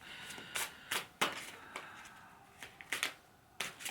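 Deck of playing cards being shuffled by hand, a series of crisp riffling bursts in irregular rhythm, close and fairly loud, with quiet pauses between.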